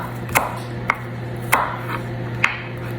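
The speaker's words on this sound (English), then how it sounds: "All right, so I've got some onions here. I'm going to go ahead and just mince these up." A knife mincing onions on a cutting board, four crisp, separate chops at uneven intervals, close and clear, with a low steady hum underneath.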